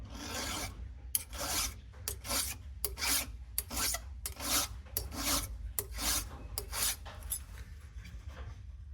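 Filing a chainsaw depth gauge with a Stihl 2-in-1 file guide on a hard setting, a series of quick, rhythmic metallic rasping strokes, close but fairly quiet, with brief pauses between them.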